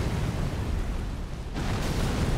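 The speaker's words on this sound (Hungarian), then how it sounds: "Ez a robbanás az írdatlan." A rumbling in-game explosion in Elden Ring: Shadow of the Erdtree, a sustained broadband roar with a fresh burst midway, loud and continuous with no speech.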